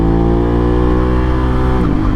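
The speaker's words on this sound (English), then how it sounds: "I can bounce it to 1st, and I'm going to show you not using my clutch hand" Aprilia RS 660 motorcycle engine, 2021 model, running loud and steady with a sustained tone, shifting down through the gears on its quick shifter; near the end the pitch dips briefly as a gear change lands.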